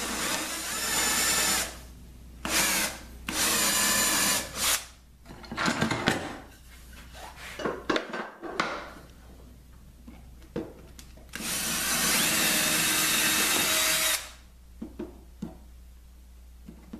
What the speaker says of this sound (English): Drill through that laminate